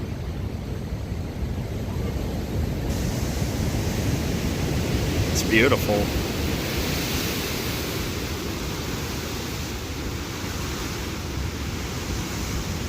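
Ocean waves surge and splash against the pilings of Jennette's Pier at Nags Head, North Carolina, a steady broad wash of surf with a brief sharp crash partway through, while a voice briefly speaks over the noise.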